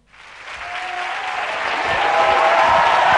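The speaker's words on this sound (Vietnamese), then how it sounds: "Hãy dành một tràng pháo tay chào đón một nhân vật thật bí mật" A television studio audience on the Vietnamese show Gương mặt thân quen breaks into applause to welcome a guest, the clapping rising quickly and swelling louder into a dense, sustained ovation.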